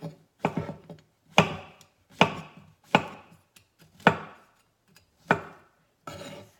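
A kitchen knife slices through mushrooms on a cutting board, about seven distinct crisp cuts spaced roughly a second apart, each a sharp close thud with a short scrape, no talking.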